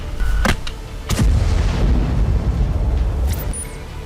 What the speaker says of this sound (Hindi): जोरदार धमाके की आवाज आई।